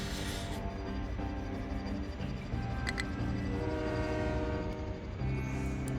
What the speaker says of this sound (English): And another train.